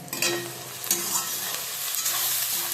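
Onion fries in white oil with salt and turmeric for Hyderabadi green chicken. A close, even sizzle carries repeated spatula scrapes and clacks against the pan, with no voices.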